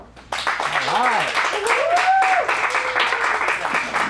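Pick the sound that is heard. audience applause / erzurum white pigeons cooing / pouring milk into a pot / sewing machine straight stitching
audience applause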